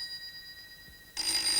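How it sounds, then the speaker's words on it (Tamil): A telephone rings in an Indian Tamil film comedy: faint steady tones give way to a loud, bright ring that bursts in near the end, with no talk. "Sir phone sir."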